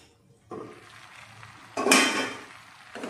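Gongura pickle is stirred in a metal pot with a spoon, giving close scraping and clinking. A short scrape comes first, then a louder, longer stir.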